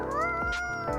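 A cat meows in the Coffee Talk video game, a short, whiny, close cry over a steady synth music bed.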